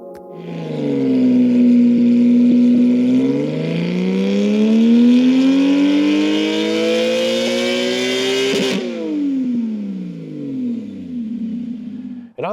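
Porsche 718 Spyder with a 4.0L flat-six and full Kline Inconel exhaust on a dyno, loud and close: a long rising rev climbing steadily to a high-rpm peak, then a sudden throttle lift and falling decay.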